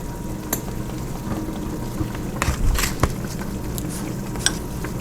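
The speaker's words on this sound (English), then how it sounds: "Hear that sizzling?" Buttered bread sizzles in a Ninja Foodi on sear and sauté mode, giving a steady close crackle and hiss with a few sharper pops and ticks scattered through it.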